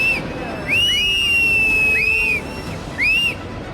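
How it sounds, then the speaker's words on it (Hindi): Shrill warning whistles blow in several rising-and-falling bursts during a cloudburst disaster in Dharali, Uttarakhand, piercing over a steady background rumble, sounding urgent and somewhat distant. "दूर से बजती सीटियां सावधान कर रही थी।"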